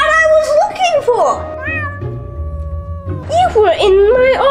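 A cartoon cat meows loudly in drawn-out, wavering cries, a long yowl giving way to a low rumbling hum before more insistent meows return.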